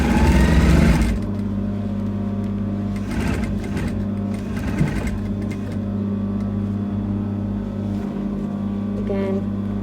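A sewing machine stitches elastic onto a cape, starting with a loud, rapid burst of stitching, then a steady lower motor hum with softer intermittent runs while someone talks over it.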